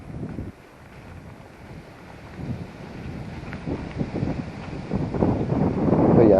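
Strong gusts of wind buffet the microphone outdoors in a garden, a rough low roar that builds and swells toward the end, with no speech.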